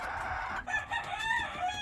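A brown red Old English rooster crows once in a backyard chicken yard, a short, moderately faint call at middle distance.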